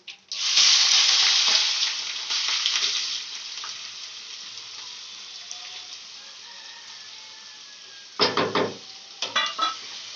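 A loud hiss and sizzle of onions, garlic, green chillies and curry leaves hitting hot oil, fading to a steady fry, then a few brief clanks and stirring bursts near the end.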